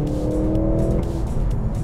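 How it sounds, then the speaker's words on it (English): Drivetrain of a 2024 Mercedes-AMG C 63 S E Performance in manual mode, a steady low engine drone with a brief rising tone, heard close and alone. "So straight away, there's a little bit more sound from the drivetrain."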